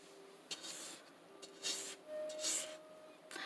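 A spatula scrapes along the bottom of a pan of chocolate chunk cookie dough, giving several close, raspy rubbing strokes in short bursts, with no talk.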